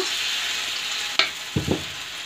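Potato wedges deep frying in hot oil give a steady close hiss of bubbling, broken by a few brief clatters as the pieces are turned.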